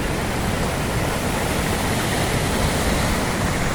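A waterfall roars steadily, a dense, continuous rush of water that stays loud and unchanging throughout with no voices.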